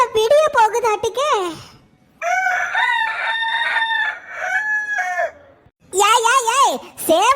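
A cartoon rooster crows loudly nearby in two long calls, with excited human voices chattering before and after.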